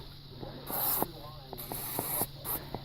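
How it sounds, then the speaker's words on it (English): Electronic contact cleaner hisses from an aerosol can onto interior electrical connectors of a 2005 Toyota Prius, two bright close bursts of spray separated by a pause, amid faint clicks and handling noise. "I'm going to take the electronic cleaner, and I'm just going to spray these things"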